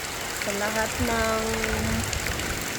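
Heavy rain pours down steadily over a small hut, a dense hiss of drops drumming on surfaces, while a voice speaks over it.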